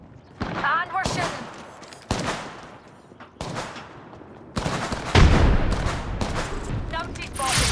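Gunfire from the video game Apex Legends, a series of loud bursts and rapid shots in several clusters, mixed with game voice callouts and other battle noise.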